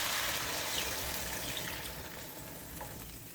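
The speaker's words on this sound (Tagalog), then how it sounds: "At maglagay na tayo ng tubig." Water pours steadily into a pot of sinigang with chicken cubes, a broad rushing gush that is loudest at first and then eases slightly, with no talking.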